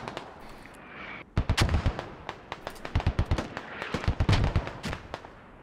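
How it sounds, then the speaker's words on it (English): Mortar rounds in the military shooter game Squad land in a rapid string of sharp booms and cracks, loud and dense at first, then thinning into scattered, fainter blasts. "the mortars continue adding the pain here"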